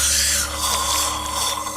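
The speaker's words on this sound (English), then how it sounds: "They drill into your tooth," A dental drill bores into a tooth during a root canal, giving a continuous high-pitched whine with a grinding edge that stays close and loud for the whole short stretch.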